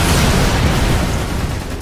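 Grenade explosion in Lost Planet 2, a loud close boom that rumbles and decays over about two seconds, with no talk.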